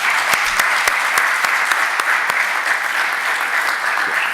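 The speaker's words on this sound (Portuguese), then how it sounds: "Pedia-vos uma salva de palmas para eles" Audience applause rings out for an Olympic race walking team at a polytechnic forum, loud, dense clapping from a crowd with a few crisp individual claps standing out near the start.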